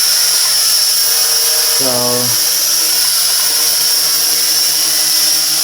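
An XK X250 Alien quadcopter drone holds a steady hover, its motors giving a constant high-pitched whine. A person speaks briefly over the buzz.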